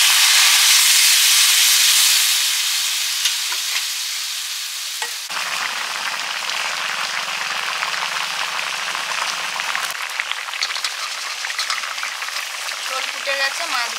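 Spiced vegetable curry liquid with ground cumin and coriander boils and sizzles in a pan, a steady loud hiss that eases into a softer bubbling simmer, with brief voices in the background.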